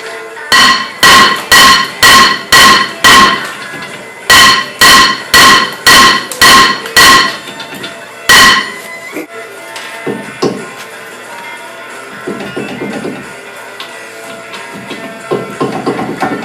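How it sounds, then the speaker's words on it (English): A steel hammer pounds a seized rear brake rotor off a 2004 Dodge Ram. It comes in two close, loud rhythmic bursts of about six ringing metallic blows each, then one more strike, followed by quieter clanks and shop noise. "I'm just going to go to town with the hammer to pound this off"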